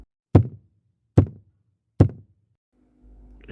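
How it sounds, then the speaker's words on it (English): Three evenly spaced knocks sound above a bed at night, each a sharp, close thud with a short dull tail, followed by a faint low hum in an otherwise quiet room. "3 knocks. Same place. Same sound. Above my head."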